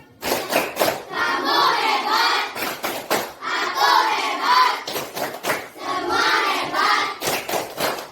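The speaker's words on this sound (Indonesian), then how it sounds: "Kita tepuk hebat." A school class claps together in a set rhythmic pattern, bursts of sharp unison claps alternating with shouted chanting voices, loud and close.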